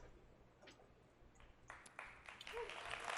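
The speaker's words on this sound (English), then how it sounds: "Sort of a hesitant clap there." A scattered, hesitant smattering of claps builds slowly from a keynote audience, faint and distant at first and growing into a thin spread of applause.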